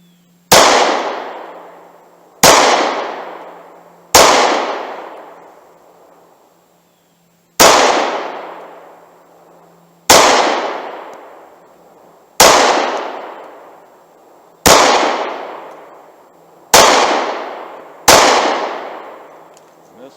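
Ruger Security 9 9mm pistol fired as single gunshots, nine sharp loud reports spaced about two seconds apart with ringing decay, no talking.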